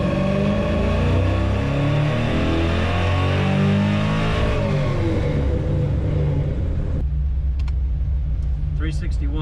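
A Ford F100 V8 with Holley EFI revving on a dyno in 4th gear, a loud close engine roar climbing steadily in pitch, then cutting off into a lower idle rumble with a few faint clicks near the end.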